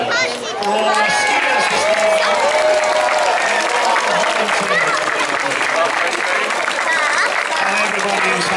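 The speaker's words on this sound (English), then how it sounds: "round of applause." A crowd at an outdoor charity ski event claps and cheers in a loud, sustained round of applause, with voices calling out through it.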